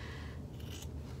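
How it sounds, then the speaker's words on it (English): Scissors trim fabric along the front panel of a sewn tote bag, a close, continuous rasping snip that fills the short moment with no talking. "just trim away so that your front panel and your back panel matches"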